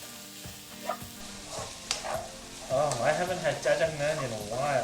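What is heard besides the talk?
mushrooms stir-frying in a hot pan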